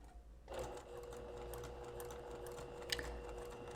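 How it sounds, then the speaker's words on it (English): A sewing machine starts up and runs a steady, fast mechanical whir, stitching close around the outer edge of an embroidery test stitch-out at about a 2 stitch length. "I'm going to stitch as close as I can to the outer perimeter"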